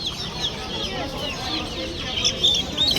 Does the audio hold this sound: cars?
no